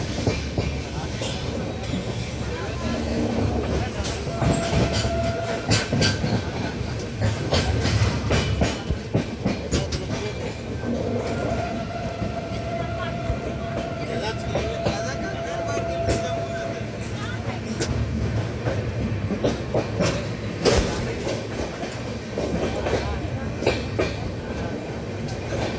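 The Anga Express sits at Jhajha station at night, about to pull out, with a continuous low rumble of rail cars, clanking couplings and intermittent clickety-clack and metallic squeals. Voices murmur in the background throughout.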